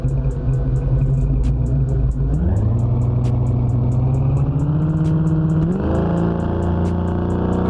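A small block engine car in BeamNG Drive revs loudly and steadily, pitch climbing in stages and holding high, a close continuous roar with a faint ticking pulse over it.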